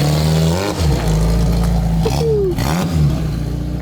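A car engine, likely the RV tow vehicle, revs loudly up close and pulls away, with rising and falling engine pitch and a brief whine over the drone.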